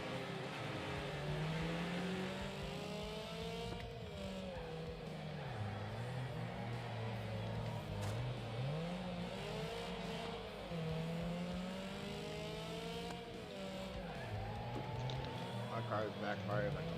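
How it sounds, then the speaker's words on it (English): A race car engine in the Wreckfest video game revving and backfiring on an oval track, a continuous loud drone with rising and falling pitch and sharp pops, with talk over it. "My car is backfiring like a mother."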